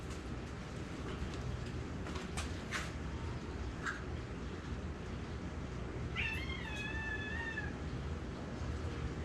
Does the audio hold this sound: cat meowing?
yes